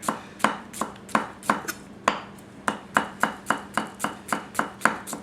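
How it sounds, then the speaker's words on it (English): A Goko White #1 240 mm gyuto knife slices through food onto a cutting board in a steady run of crisp, close knocks, roughly three per second, with no talking. "So we'll add a little bit of slice, a little bit of draw to your cut"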